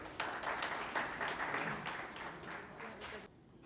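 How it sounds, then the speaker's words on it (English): At an industry and SME summit, an audience claps briefly, a moderate patter of applause that fades out after about three seconds. "Let's have a round of applause for him."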